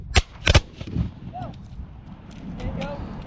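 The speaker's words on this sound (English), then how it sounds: "Company, fire by falls from the right. Rapid." Civil War reenactors fire a rifle volley by falls: a few sharp, close cracks in quick succession, then scattered fainter reports and shouted commands over outdoor rumble.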